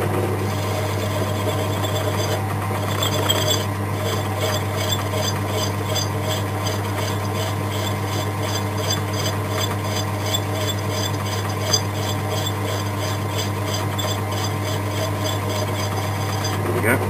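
A file faces the end of a metal bolt spinning on a lathe, heard as a continuous loud motor hum and whine with a steady rasping scrape layered on top for the whole stretch.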